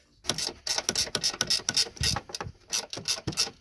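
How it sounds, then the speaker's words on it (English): A 13 mm ratchet wrench tightens strut nuts on a Town & Country or Dodge Caravan, giving rapid bursts of crisp ratcheting clicks in quick repeated strokes, close and clear with no talk. "you want to tighten them down with the 13 millimeter ratchet wrench"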